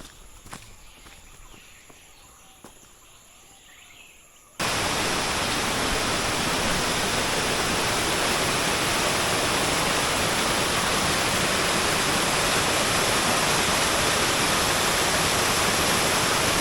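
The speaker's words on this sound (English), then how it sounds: "Now this waterfall here, Khao Yai" A waterfall in Khao Yai National Park, Thailand, roars as a loud, steady rush of broadband water noise that begins abruptly partway through, after a few seconds of quiet forest ambience with faint taps.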